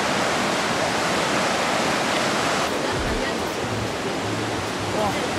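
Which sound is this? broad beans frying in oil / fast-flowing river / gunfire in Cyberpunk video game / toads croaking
fast-flowing river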